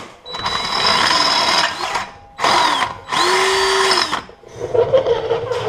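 A power drill bores a hole in a Jeep Wrangler for a bump stop, three loud, close whirring bursts separated by short pauses, with the motor pitch shifting as the bit cuts.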